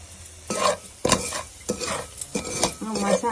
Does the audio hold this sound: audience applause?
no